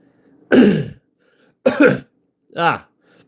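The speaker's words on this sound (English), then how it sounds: "I know I'm coughing and wheezing again" Three harsh coughs, loud and close, separated by short pauses, with no talking.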